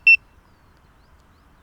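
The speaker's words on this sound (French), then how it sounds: "ce bip là sert en fait en gros à retrouver le drone s'il crache" Single short electronic beep from an FPV drone's locator beeper, high and clear, followed by near silence.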